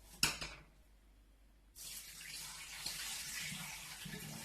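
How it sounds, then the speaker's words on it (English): Water is poured off a bowl of soaked chickpeas with loosened skins, giving a close, steady splashing stream that starts after a short clink and a pause and keeps running to the end. "I'm going to pour off the water now."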